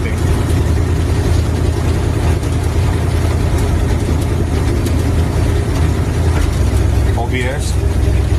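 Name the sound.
hot rod car engine running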